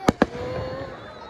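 Two sharp, loud firework bangs burst in quick succession at a Guy Fawkes Bonfire Night display in Newtonhill, Scotland, followed by a lingering rumble and outdoor background noise.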